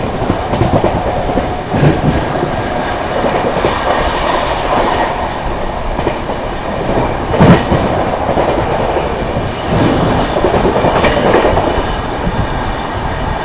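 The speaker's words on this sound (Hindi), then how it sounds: "दोस्तों क्या भाग रही है भाई अपनी प्रयागराज हमसफर, एंड क्या ओवरटेक मारा है" The Prayagraj Humsafar Express races past at speed, a loud, continuous roar of rolling wheels and rattling coaches with rhythmic rail clatter close at hand.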